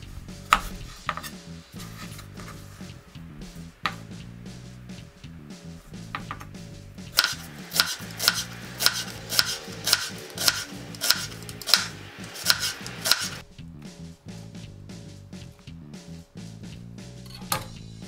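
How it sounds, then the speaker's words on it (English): A knife taps steadily on a cutting board as an onion is finely sliced, a quick even rhythm of chops that speeds up midway, close by. "Finely slice one whole onion."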